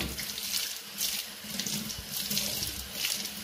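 Makeup brushes being rinsed under a running tap in a sink, with a steady close rush of water that swells and splashes slightly as the brushes move through the stream.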